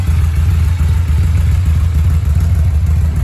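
Yamaha VMax motorcycle engine idling after start-up, a loud, close, steady low rumble with a slightly uneven pulsing throb and mechanical clatter, no voices.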